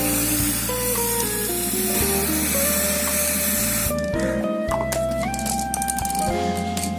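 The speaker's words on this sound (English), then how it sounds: "and again I will spray it" Spray bottle misting water over sand ballast on an HO scale model railway layout, with a steady, continuous hiss running close and loud through the whole stretch, partly masked by background music.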